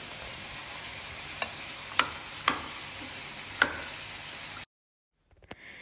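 Fruit salad being stirred and mixed in a bowl at home for an iftar meal, a few sharp clicks and taps of the spoon against the dish over a soft background hiss, then a sudden cut to silence with faint knocks.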